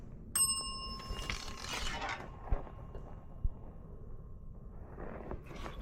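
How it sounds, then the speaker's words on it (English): A counter bell at a county jail and sheriff's office front desk is struck once, giving a bright ringing ding that fades slowly over a faint room murmur and soft rustling. "just hit the bell inside."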